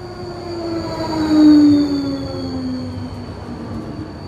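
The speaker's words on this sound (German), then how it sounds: "Jetzt werde ich mal warten auf die Straßenbahn," Tram in Linz pulling into a stop, a steady rumbling rail roll with a high metallic wheel squeal and a brief swelling whine midway, close by and without voices.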